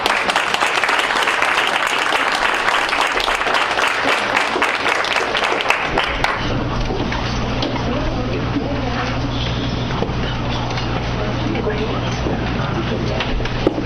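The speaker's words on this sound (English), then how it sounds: "let us give you a round of applause" A school board meeting audience gives a round of applause to the parents of girls on the track team, dense clapping filling a hall for about six seconds before fading into room noise and a voice speaking.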